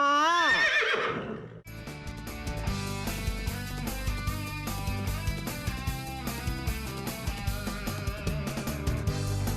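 A horse gives one loud whinny at the start, followed by busy music with a steady beat.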